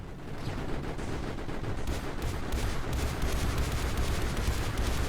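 Turrets firing in the video game Mindustry: a dense, continuous roar of rapid gunfire and blasts that holds steady and loud throughout with no break.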